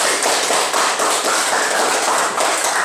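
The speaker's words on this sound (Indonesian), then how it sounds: "Berikan tepuk tangan untuk kelompok" A classroom group applauds together, a dense, steady burst of many hands clapping close by, continuous for the full stretch with no talk over it.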